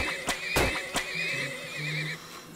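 A horse neighs in the Turmoil video game, a clear whinny with a rising cry and several sharp bursts, close and fairly loud over game background sounds.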